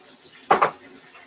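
A spoon clinks against a cooking pot while stirring a curry mix with mango salsa for saltfish: two quick, close metallic knocks in an otherwise quiet kitchen.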